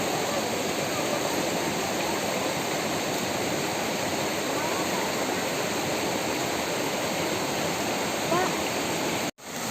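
Ezharakund waterfall roars as a dense, steady rush of falling and flowing water, loud and close, continuous throughout with a brief dropout near the end.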